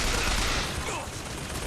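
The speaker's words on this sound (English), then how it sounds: "We're gonna use a machine gun on the machine gun." Rapid machine gun fire in the BioShock Infinite video game during a rooftop fight, a loud burst that fades slightly toward the end.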